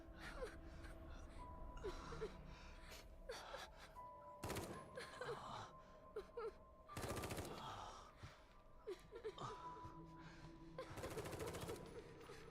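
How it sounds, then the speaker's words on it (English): Video game gunfire breaks out in several short, harsh bursts over quiet ambient game music and scattered effects, faint overall. "And suddenly gunfire."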